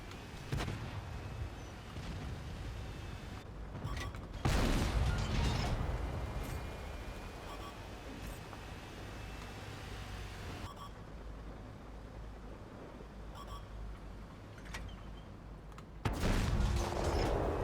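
Artillery shell impacts and distant booms in the World of Tanks video game, with heavy low rumbling blasts and mechanical creaks, louder bursts near the start, around four seconds and at the end.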